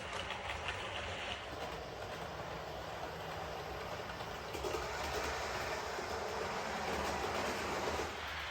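A Heljan model locomotive pulling out of a layout station, a low steady motor hum and faint rolling clatter building gradually, fairly quiet and without voices.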